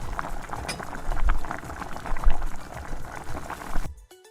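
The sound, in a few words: prawn curry simmering covered with water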